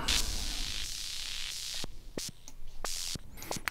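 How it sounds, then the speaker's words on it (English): A synthesized tone wrapped in bright white-noise hiss shifts and sweeps, broken by a few sharp clicks. "this sound is one of those sounds that's got a lot of white noise in it"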